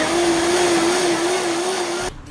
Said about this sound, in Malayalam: എന്നിട്ട് മിക്സിയിൽ നന്നായി അടിച്ചെടുക്കുക